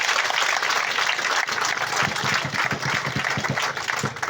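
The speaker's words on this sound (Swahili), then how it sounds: "Tumpigie makofi." Audience applause at Rutune Secondary School in Mukurweini during a speech event: a steady, dense wash of clapping that fills the whole stretch at moderate loudness, with no voices over it.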